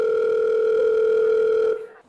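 A steady telephone dial tone holds for a call placed to a quiz-show contestant's helper, two sustained pitches sounding loud and unbroken for under two seconds before cutting off abruptly.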